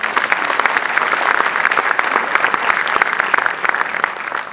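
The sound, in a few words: audience applause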